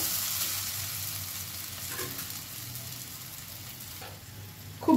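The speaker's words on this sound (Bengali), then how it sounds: "খুব ভালো করে সেদ্ধ আলু মশলার সাথে মাখিয়ে ভাজা ভাজা করে নেব।" Grated boiled potato sizzles in oil with fried onion and spices, frying in a soft, continuous hiss that is stirred now and then, with a louder scrape right at the end.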